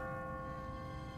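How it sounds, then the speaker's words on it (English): An automatic church bell rings on a timer in The Walking Dead video game, a steady sustained tolling with long ringing tones over a low rumbling backdrop, no voices. "What kind of church bell goes off at 20 past the hour?"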